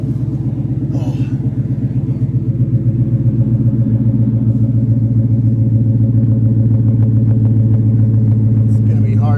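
Engine of a 1963 Unibody truck idling loudly up close in a garage, a steady deep rumbling drone with a throbbing low pulse that holds constant throughout, with brief faint noises over it.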